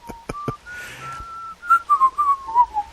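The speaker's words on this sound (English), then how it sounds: "Stand around whistling until one of these things respawns." A person whistles a short wavering tune close up while idling in World of Warcraft waiting for a respawn: a few clipped notes, then a held tone sliding into a bouncing melody, with no talking.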